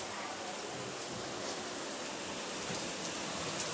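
Heavy rain pours down in a steady, dense hiss that stays loud and even throughout, with no voices over it.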